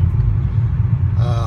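A 2008 VW Rabbit accelerating down a street, heard from inside as a low, steady engine rumble with road noise, brief, with a rising tone near the end.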